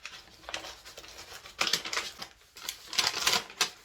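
Packing paper crinkling and rustling as orchids are unboxed, loud irregular bursts of crackling close by, with quieter pauses between handfuls.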